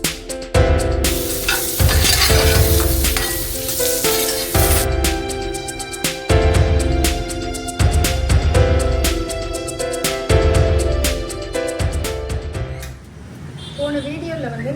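Dried fish (karuvadu) frying in a pan, a steady sizzle running throughout beneath prominent tonal background music.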